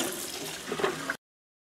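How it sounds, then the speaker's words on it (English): Dye solution pours into a sink under cold running water, a steady close splashing rush with a few gurgles before it cuts off abruptly. "I usually would just pour this in the sink and start rinsing it in cold water here"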